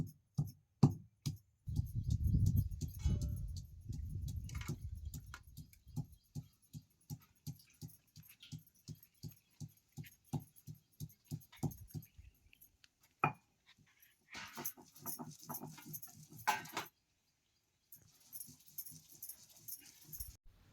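Garlic, cumin, ginger, coriander and green chillies pounded together by hand: steady, evenly spaced thuds, close and fairly loud, then a rattling, scraping clatter with a brief pause near the end; no talking.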